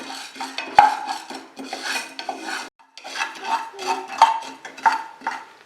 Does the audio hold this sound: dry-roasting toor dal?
yes